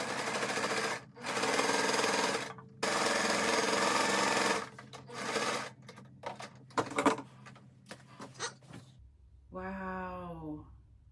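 A sewing machine stitches a pinwheel lap quilt in several loud, steady bursts of close mechanical whirring, with short pauses and some fabric handling, then a brief voice near the end.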